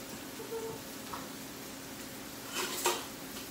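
A pot of soup is stirred with liquid just added, giving a soft, low background swish, then a short bright scrape and clink of a utensil against the pot near the end.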